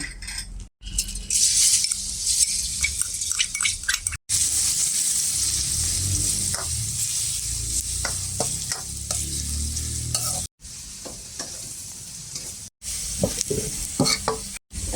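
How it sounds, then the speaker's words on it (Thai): Garlic frying in hot oil for homemade noodles, with a continuous bubbling sizzle close by, punctuated by stirring and the occasional clink of a utensil against the pan, with a few brief pauses. "เจียวกระเทียม"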